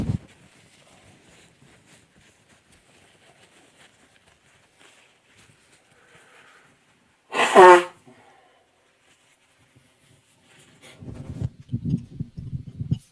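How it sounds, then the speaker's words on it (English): A single short, forceful nose blow bursts out of near silence, followed by soft rustling and handling noises. "I gotta blow my nose"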